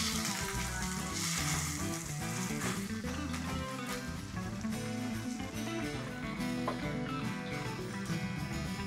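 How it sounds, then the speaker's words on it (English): Cumin seeds, cinnamon and cloves roasting with onions in a pan give a steady, close sizzle with continuous crackle and no pauses. "Let me roast it a bit and then mix all the onions with it."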